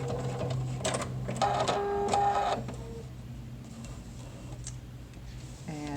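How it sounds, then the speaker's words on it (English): A sewing machine stitches whiskers and outline details onto the fabric face of a toy mouse, running in a close, loud rapid mechanical burst for about two and a half seconds before settling into quieter whirring. "that is how you stitch the entire face by machine"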